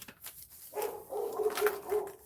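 A dog barks indoors in a short run of several barks at moderate distance, with no voices alongside.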